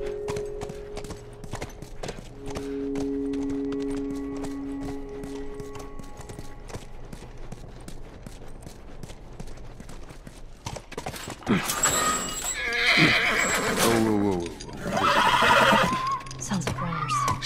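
Hooves clip-clop steadily in The Last of Us, followed in the second half by loud, close neighing and whinnying from the horse, with no speech over it.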